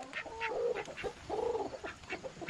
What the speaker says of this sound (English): Why, hello, chickens.